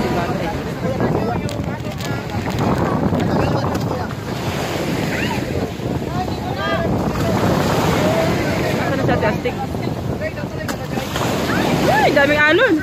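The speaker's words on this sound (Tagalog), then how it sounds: "Ay, daming alon." Ocean waves surge and splash around a small boat at sea under heavy wind buffeting the microphone, a loud continuous wash throughout, with people talking and exclaiming over it.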